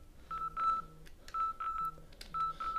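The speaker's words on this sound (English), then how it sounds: "you get an alarm on the phone, if the app's running" A Bluetooth tyre pressure monitoring app on a phone, paired with a Triumph Street Triple motorcycle, sounds its alarm: three bursts of clear, steady electronic beeps with short gaps, fairly quiet and close, with no talking.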